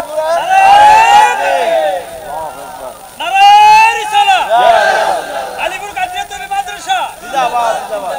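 A large crowd at an Islamic sermon gathering shouts a takbir chant in unison, loud, close and surging, with rising group calls and babble in between.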